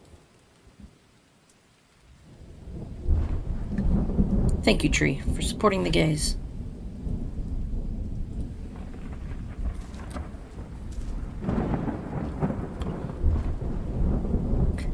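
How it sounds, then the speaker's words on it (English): Rain pours steadily in a video game storm at sea, where a broken boat rides out the weather, with rumbling thunder building under a continuous downpour and a voice speaking over it partway through. "How will my broken boat handle the storm?"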